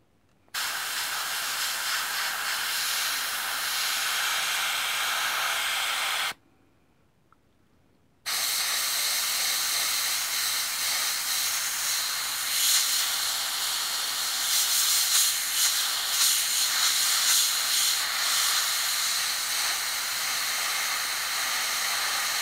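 An airbrush sprays paint onto a Focke-Wulf scale model in a steady, close, continuous hiss that stops for about two seconds, then resumes and runs on without a break.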